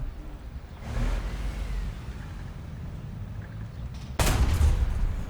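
Tank cannon fire in a War Thunder battle set in Vietnam: a muffled boom near the start, then a sharper, louder shot late, over a steady engine-like rumble.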